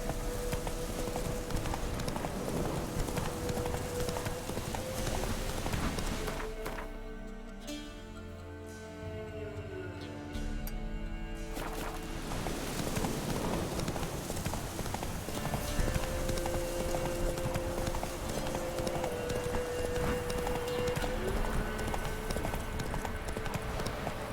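Roach, a horse in the video game The Witcher 3, gallops with rapid, rhythmic hoofbeats that briefly pause as the horse slows, then resume steadily, accompanied by light rain-like ambience.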